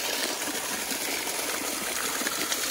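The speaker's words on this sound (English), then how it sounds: "that water feels really good gushing down on my feet" Water gushes and splashes steadily over bare feet outdoors at Aiken State Park in South Carolina, a dense, continuous rushing wash heard up close with no talking.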